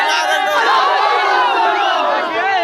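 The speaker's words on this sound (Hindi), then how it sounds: "ये भीड़ है, ये भीड़ तेजस्वी यादव के लिए है।" A dense crowd at a political rally for Tejashwi Yadav roars loudly and steadily, many voices overlapping in shouts and cheers with no break.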